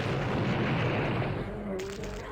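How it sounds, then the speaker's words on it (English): Napalm launcher explosions in the shooter game Blood: a dense, loud, rumbling roar of blasts that fills the whole moment, easing slightly toward the end. "We'll blow them up with the napalm launcher too"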